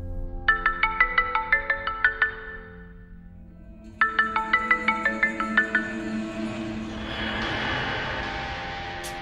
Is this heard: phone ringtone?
yes